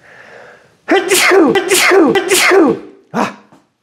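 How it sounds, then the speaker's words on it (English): A loud, drawn-out sneeze with a voiced, building lead-in, then a short extra burst after a brief pause. "gonna sneeze."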